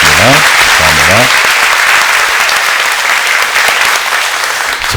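Church congregation at a Sunday worship service applauding in thanks and encouragement for volunteers, including parking attendants; loud, dense, sustained clapping filling the room, with a speaking voice briefly heard over it at the start.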